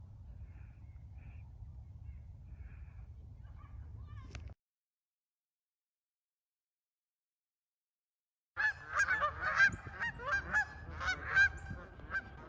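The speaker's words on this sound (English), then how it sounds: "Nothing says winter in the Northeast like Canadian geese." Canada geese on a winter outing in the Northeast give a burst of repeated, overlapping honks that come in after a stretch of low rumble and silence, fairly close and loud, with no voices.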